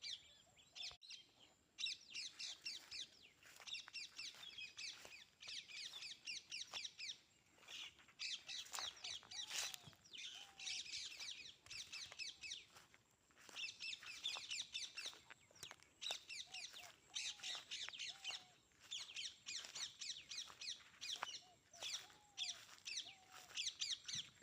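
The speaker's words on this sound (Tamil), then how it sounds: "சவுண்டு பாருங்க, எவ்வளோ அழகாக விடுது பச்சைக்கிளி." Green parakeets call from trees in a dense, continuous chorus of shrill chirps and squawks, several birds overlapping at close to mid distance with no talk over them.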